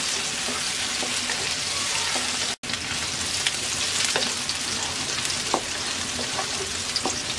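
Chopped onion fries lightly in a pan for okra bhaja, a steady broadband sizzle with scattered small pops and occasional spatula scrapes, near and continuous apart from one brief dropout.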